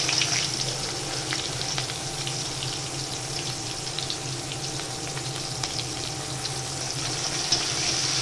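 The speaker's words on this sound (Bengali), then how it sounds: "পেঁয়াজটা একটু লাল লাল করে ভাজা হবে" Chopped onions fry in hot oil over whole garam masala, bay leaf and cumin, producing a constant close crackling sizzle with occasional stirring scrapes and no voices.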